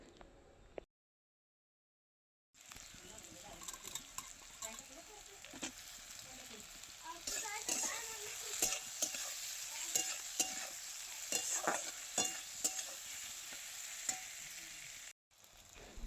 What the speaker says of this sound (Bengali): এই দেখো পেঁয়াজগুলো ভালো করে ভেজে নিতে হবে যাতে পেঁয়াজগুলো গলে যায়।